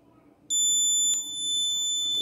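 Alarm buzzer on a GSM and GPS smart helmet with alcohol detection, a loud steady electronic tone that starts abruptly after a quiet moment and holds continuously to the end.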